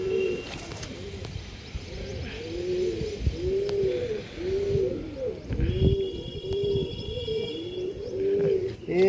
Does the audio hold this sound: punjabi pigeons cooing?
yes